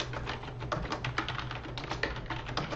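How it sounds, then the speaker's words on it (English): Quick tapping of a computer keyboard as a name is typed in, irregular soft clicks running steadily for a few seconds over a low constant hum, fairly close and quiet, with no talking. "and then I can type in my name"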